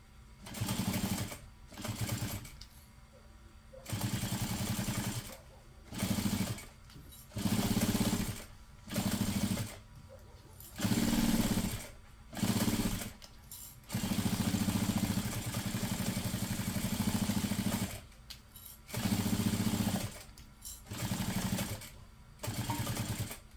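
A home sewing machine stitches webbing straps in repeated bursts of steady, fast mechanical whirring, each run a few seconds long and separated by short pauses, close and fairly loud with no voices.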